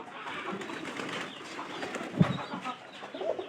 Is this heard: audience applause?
no